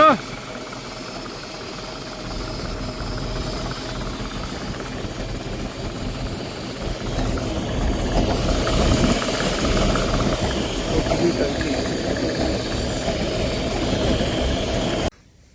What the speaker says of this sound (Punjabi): ਪੰਪ ਵੀ ਲੱਗ ਗਿਆ